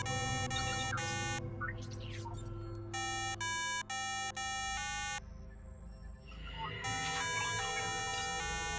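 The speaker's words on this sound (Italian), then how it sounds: "Ok, l'allarme." An alarm buzzer in a South Park video game, loud repeated bursts of harsh electronic tones pulsing in a regular on-off pattern, interrupted by game sound effects and a voice speaking Italian.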